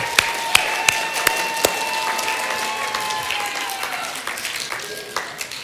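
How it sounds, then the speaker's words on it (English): An audience applauds a student artists' performance at a church youth gathering, a steady wash of many hands clapping with a few sharper near claps, holding through and thinning toward the end. "Let's applaud our artists"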